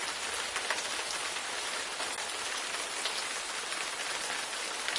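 Steady, dense rain hisses continuously on a planet in the adventure game Gemini Rue, heard as a close, even wash of drops with no voices.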